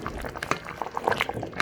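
Cooking sounds rise from a pot of coconut fish rundown as pepper and plantain go into the simmering coconut milk base: a run of short, soft liquid plops and splashes that sit close and moderately loud, with no talk.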